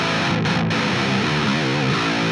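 Heavy, distorted electric guitar riff with a thick, saturated nu metal tone with some highs taken out, played continuously and loud, notes bending and shifting.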